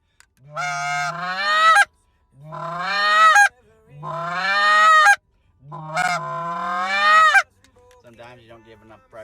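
Four loud, drawn-out honks from a handheld goose call, each rising in pitch and cut off sharply, with short gaps between them, then a softer, thinner squeaky note at the end.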